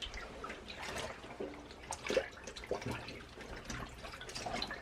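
Denim jeans are laid into a water dye bath, giving soft splashing, dripping and sloshing liquid sounds with small irregular bursts, fairly quiet and close, with no talking.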